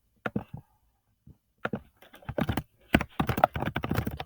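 Bursts of computer keyboard typing, close and clear, starting with a few scattered keystrokes and building into a fast, dense run of clicks with no talking.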